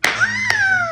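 Two crisp hand claps keep time with a sung children's tune at a birthday brunch, the singing voice carrying on between and under them.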